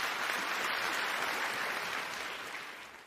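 Applause from an audience at a Redmi launch event, a broad wash of clapping that stays fairly even before tapering off slightly.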